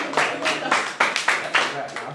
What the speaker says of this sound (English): Round of applause, though.